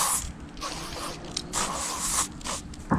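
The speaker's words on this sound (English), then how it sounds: "Time to hit some bug spray." Insect repellent bug spray hisses from an aerosol can outdoors at dusk during a dove hunt, in several short, close bursts separated by brief pauses.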